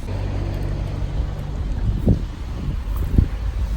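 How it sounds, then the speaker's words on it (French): Strong wind buffets outdoors on a hot day, a steady rushing rumble with low gusts and thumps against the microphone, no talk heard. "Il y a un vent de ouf, c'est génial."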